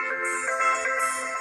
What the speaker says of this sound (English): oh, your phone is ringing.